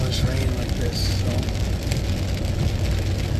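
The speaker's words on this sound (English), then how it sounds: "it's noisy in the tent when it's all this rain like this" Heavy rain drums steadily on a tent, a dense, continuous close patter filling the whole stretch with no pauses.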